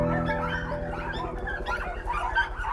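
Three puppies whimpering and yipping inside an abandoned plastic greenhouse, high thin whines and soft cries in overlapping bursts, close and fairly loud over a low background rumble.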